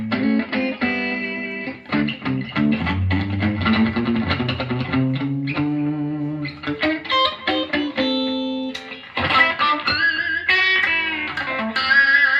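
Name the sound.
guitar distortion pedal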